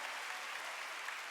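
A church congregation claps hands together during a Wednesday worship service, a dense, steady wash of applause filling the whole short moment.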